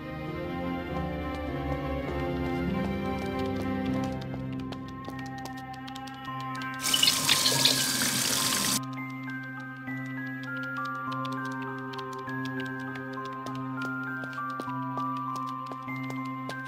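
Water from a tap fills a watering can in the Wii video game Coraline, as a bright rushing splash of about two seconds. Tonal background music plays steadily before, during and after it.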